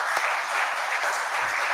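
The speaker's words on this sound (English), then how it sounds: "So that requires a big applause from you." Dense, even applause from an audience at a fireside chat event, many hands clapping steadily at close range with no voices over it.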